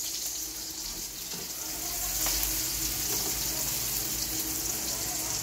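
Whole uncut chilies and onions sautéing in a pan give a continuous soft sizzling hiss that grows a little louder partway through and holds steady, with faint stirring touches.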